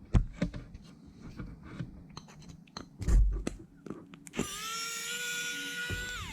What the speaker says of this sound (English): Let's unscrew it